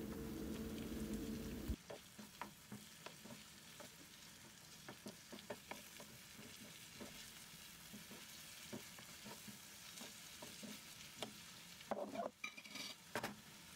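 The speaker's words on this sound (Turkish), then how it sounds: "Karıştırarak kavuralım." A spoon stirs tomato juice with a little pepper paste as it sautés in a pan. A quiet, continuous sizzle is broken by repeated scraping and stirring clicks, after a brief louder sound at the start.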